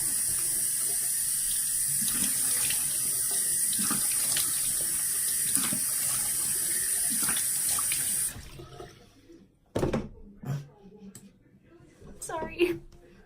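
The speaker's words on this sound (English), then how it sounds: "And just rinse it off so it's nice and clean." Water runs from a sink tap for about eight seconds as a face is rinsed, a steady close splashing stream that then stops, followed by scattered drips and a few small handling noises, with a voice speaking at times.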